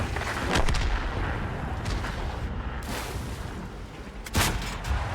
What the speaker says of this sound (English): the Artie is just constantly raining down on me